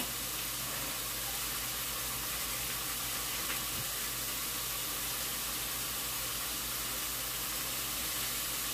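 Butter sizzling as it hits a hot pan while cooking, a steady faint crackling hiss that runs evenly throughout with no talk over it.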